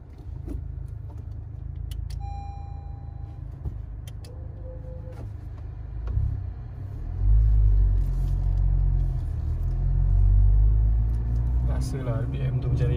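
A Honda FK8R with a VTEC turbo engine, switched into R mode, rumbles steadily at low pitch, then swells into a heavier, louder engine roar as it accelerates, holding strong through the end.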